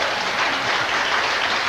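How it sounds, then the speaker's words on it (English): A studio panel of Labour supporters applauds an election result, a dense steady patter of many clapping hands, loud and continuous without voices. "some of the Labour supporters amongst our studio panel who've been watching it here also joining in that applause"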